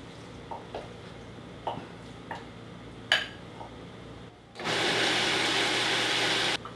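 A kitchen machine grinds ingredients for rice dumplings with mushrooms. A few light knocks come first, then a loud, steady whirring roar runs for about two seconds before cutting off.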